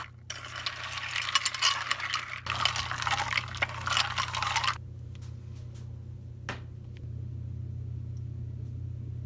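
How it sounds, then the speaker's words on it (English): Frozen lye solution for soap making is stirred, giving a few seconds of close, gritty scraping and clinking before it fades to a quiet background hum. "because it's frozen, you basically have to babysit it until you melt it and just stir it."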